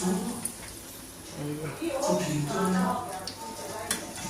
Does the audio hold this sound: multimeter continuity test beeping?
no